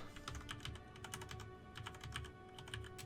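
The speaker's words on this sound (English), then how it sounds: "Typing onto my Excel spreadsheet." Fast typing on a computer keyboard, close and quiet: bursts of crisp key clicks in quick clusters with brief pauses, over a faint steady hum.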